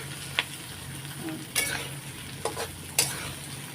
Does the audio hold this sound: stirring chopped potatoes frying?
yes